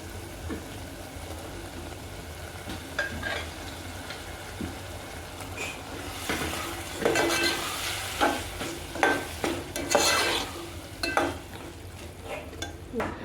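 Boiled mung beans being stirred in a pan: a low frying sizzle with spoon scrapes and clinks against the metal, sparse at first, then a louder, quicker run of stirring strokes.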